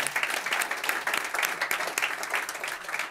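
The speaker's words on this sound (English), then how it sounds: "Give Dominic a round of applause." Conference attendees at a talk on Angular applaud a volunteer named Dominic with a brief, dense burst of many hands clapping, steady throughout with no voices over it.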